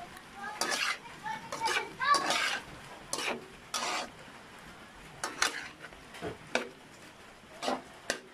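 Squid adobo being stirred in a pan, with a utensil scraping and clinking against the metal in irregular bursts and a faint sizzle underneath, heard up close with no talking.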